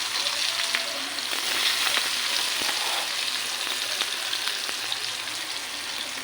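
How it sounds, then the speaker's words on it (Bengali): Onions frying in a pan for a home meal give a steady, close, broadband sizzle with scattered crackles and faint stirring scrapes, and no voices are heard. "এখন আমি এখানে পেঁয়াজগুলো একটু ভেজে নেব।"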